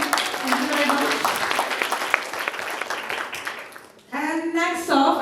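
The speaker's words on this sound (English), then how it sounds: "let's have a round of applause again for Dr. Sahin" Audience applause for Dr. Sahin at a youth summit in Istanbul, a dense, steady clapping crowd filling a hall for about four seconds, fading briefly before a voice speaks over the tail.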